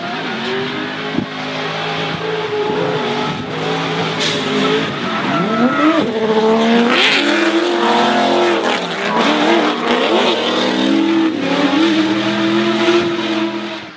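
A 7-litre V8 drift car and a 2JZ turbo Skyline battle side by side at a D1NZ championship round in Taupo in 2014, engines roaring loud and continuous with revving surges and squealing tires throughout.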